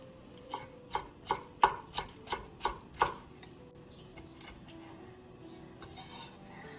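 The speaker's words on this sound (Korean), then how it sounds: "풋고추는 어, 채썰어줄 거예요" A knife cuts green chili peppers into thin strips on a cutting board. Eight quick, sharp chops come in an even rhythm, then fade into quiet kitchen background noise.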